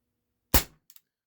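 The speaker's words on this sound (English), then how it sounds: "This does have a pretty snappy blowback, and for a CO2 powered air gun, it's pretty loud" One sharp, loud pop of a Walther P38 CO2 air pistol firing a BB, followed a moment later by two quick faint metallic clicks as the blowback action cycles.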